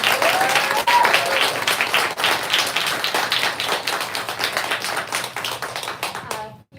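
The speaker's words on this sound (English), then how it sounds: "Let's give them a little round of applause." A seated crowd at a bookstore author event gives a round of applause, a dense spread of close claps that stays strong, then cuts off abruptly at the very end.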